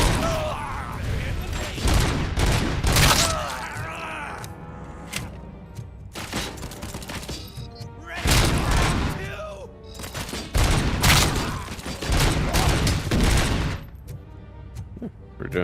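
Bursts of rapid gunfire and scattered shots echo through a firefight in the video game Robocop: Rogue City. The volleys are loud and come in repeated clusters, with brief quieter gaps between them.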